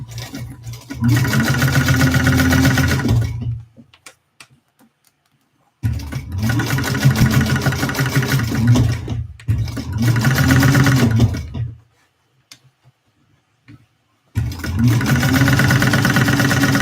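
A sewing machine runs in three long bursts and one shorter one, basting the side of a Victory Bowler Bag, with quiet pauses between runs and no talking.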